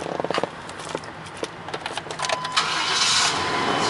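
A 4x4 truck engine cranks with a few quick stutters and then catches, settling into a steady, fairly close running rumble.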